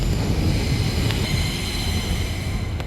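A new DLR light railway train runs between Tower Gateway and Beckton, a steady rumbling roll with a faint wheel whine and a couple of soft clicks, heard from inside.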